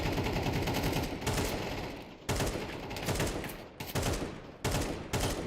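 Bursts of gunfire in a shooter video game while prefiring corners, with several dense volleys separated by short breaks, loud and steady, with no talk over them.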